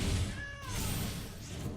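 A cartoonish cat meows once in a video card game: a short, close, tonal mew that rises and falls, set over a steady game backdrop with no talking.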